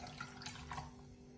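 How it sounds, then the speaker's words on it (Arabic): Water pours from a cup onto sugar to make syrup, a short, faint splashing trickle with a soft liquid gurgle. "حط فوق كوب السكر كوب ونص ماي"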